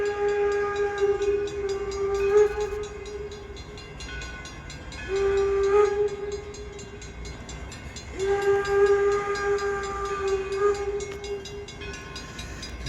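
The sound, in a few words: train passing by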